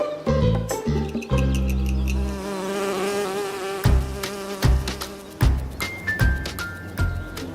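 Bees buzzing around a wooden bee box in a yard, with a lively children's song and melody playing over the steady hum.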